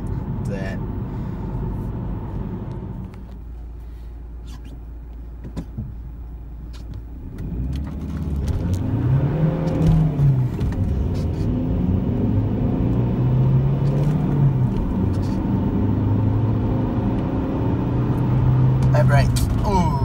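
A Saab 9-3 TID diesel car accelerates through its gears, a steady engine rumble rising in pitch, dropping at each shift and rising again, heard from inside the car.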